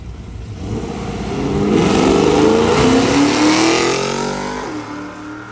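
A Hemi Coronet drag car with under 1000 original miles launches hard as the clutch drops, its loud engine revving up and surging for several seconds at a drag-and-drive event, with no talk over it.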